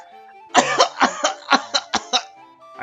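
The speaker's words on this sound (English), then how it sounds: "I slip into a nervous coughing fit." A single voice gives a nervous fit of about eight short, sharp coughs in a quick, uneven series, close and clear with nothing else behind them.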